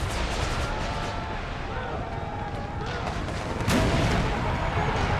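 Cannon fire booms through a Civil War battle in a video game, heavy dense rumbling with scattered gunfire under a steady din, a sharp louder blast near the end.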